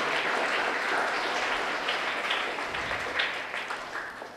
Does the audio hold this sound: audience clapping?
yes